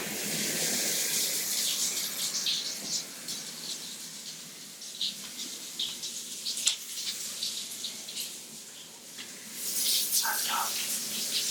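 Shower water runs steadily in a hospital bathroom as a hissing spray, loudest at the start and end, with soft splashes and brief muffled talk partway through.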